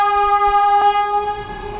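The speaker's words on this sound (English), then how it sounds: "Stupid train." A train blasts its horn close by in a loud sustained chord, fading slightly as it passes, with faint rumble underneath.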